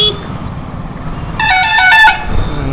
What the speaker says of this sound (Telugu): ఏం హారన్ రా బాబు, చెవులు పగిలిపోతాయి లిటరల్లీ